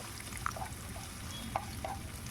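A spatula stirring sautéed onion and carrot in a pan over a quiet background sizzle, with a few soft scrapes spaced unevenly across a couple of seconds.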